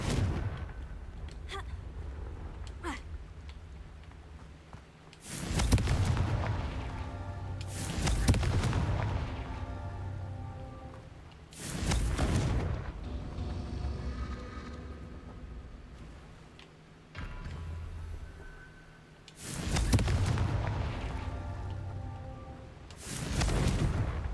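Repeated Confringo blasting-curse explosions from the Hogwarts Legacy game: four loud, broad booming bursts spaced several seconds apart, each with a rumbling tail, separated by quieter spell clicks and ambient game sound.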